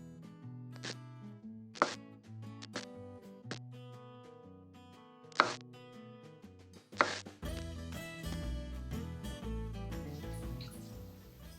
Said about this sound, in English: I'm going to cut up some strawberries.